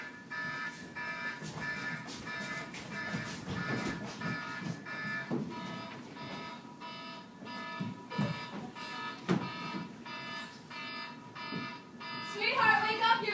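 An alarm clock goes off with a repeating electronic beeping pattern that continues steadily for several seconds and grows busier near the end.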